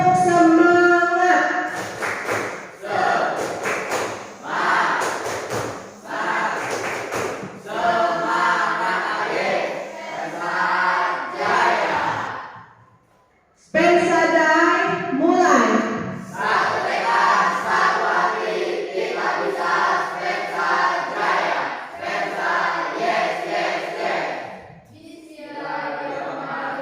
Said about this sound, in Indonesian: kita lakukan dulu tepuk semangat ya